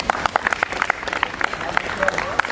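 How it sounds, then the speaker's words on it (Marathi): Audience at a kho kho tournament prize ceremony clapping, scattered sharp claps in an uneven patter that continues throughout, alongside a voice speaking over a PA. "टाळ्या वाजवायच्या होत्या."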